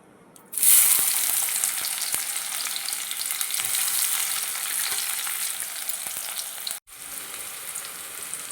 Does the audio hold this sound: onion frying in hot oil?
yes